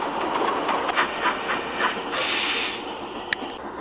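A steam engine runs with a soft rhythmic chuffing and clatter, then lets out a louder burst of hissing steam partway through, with a sharp click near the end; no one speaks.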